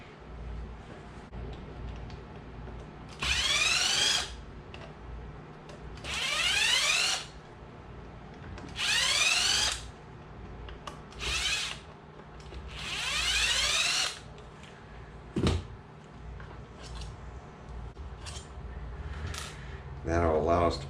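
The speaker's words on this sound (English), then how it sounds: "And then take out the 4 screws." A power screwdriver takes four screws out of a Hobbywing Max6 ESC cover, with four separate close, high-pitched whirring bursts plus one short extra burst, set between quiet handling noises.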